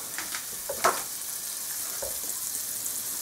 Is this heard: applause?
no